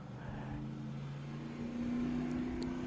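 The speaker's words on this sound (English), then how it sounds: "Did y'all hear that car?" A car engine drones steadily close by outside, its low hum rising slightly in pitch and strength toward the end, with no talking over it.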